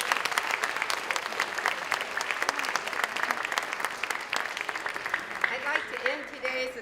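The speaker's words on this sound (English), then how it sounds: "Can we give our award recipients one last round of applause?" Audience at a 6th and 7th grade school academic awards assembly claps steadily for award recipients, a dense sustained applause that fades near the end as a voice begins speaking.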